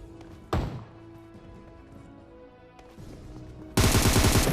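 Gunfire in the mobile battle-royale game PUBG Mobile, played on an iPad: one sharp shot near the start, a quieter stretch of game ambience, then a loud dense burst of rapid fire at the end.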